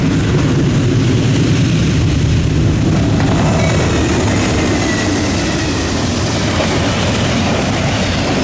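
A freight train roars past at speed through a crossing at night, a loud steady rumble with rattling wheels and clatter, no voices.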